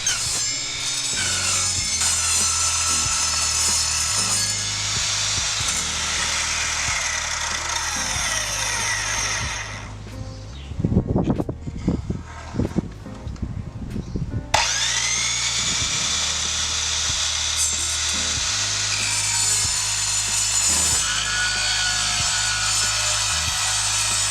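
An Evolution compound mitre saw grinds steadily through a steel RSJ beam outdoors with a harsh, high metallic whine. It pauses briefly mid-cut as gusty wind noise comes through, then resumes.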